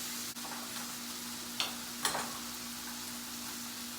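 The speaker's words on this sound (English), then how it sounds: "Now I'm gonna add these mushrooms and red bell pepper. You just let that saute for a little bit." Chicken with mushrooms and red bell pepper sautéing in a pan, a soft, steady sizzle with a couple of faint clicks, fairly quiet and continuous with no talk.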